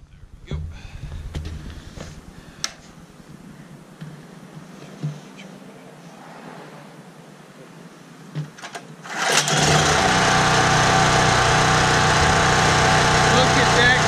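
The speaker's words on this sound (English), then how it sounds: "my dad just took it apart and cleaned the carburetor and put it all back together, and now we're gonna see if it'll start" Small gasoline engine with a freshly cleaned carburetor starts on a pull and then runs steadily at a loud, high-pitched, close drone after quiet background sounds and a few clunks.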